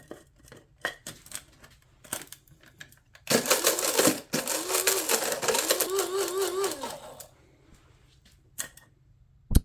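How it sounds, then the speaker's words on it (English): A spice grinder whirs loudly for about four seconds as it grinds a chemical product into fine powder, its motor pitch wavering, framed by quieter clicks and handling knocks before and after. "we're going to put all of our product that we got into the spice grinder and grind it up finely"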